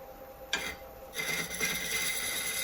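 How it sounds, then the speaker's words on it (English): A Monro captive-ring hollowing tool cuts end grain on a wooden bowl turning on a lathe, a close, raspy scraping hiss that begins in a short burst and then settles into a steady cutting sound. "Now I'm going to try a few cuts with this Monro hollowing tool"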